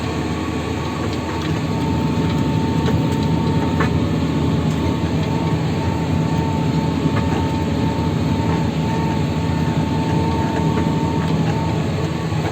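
A tractor engine labours at about 80% load while pulling an Amazone Cenius 4003 cultivator at roughly 6 km/h, giving a loud, continuous, even drone with a steady hum and faint rattles, with no speech.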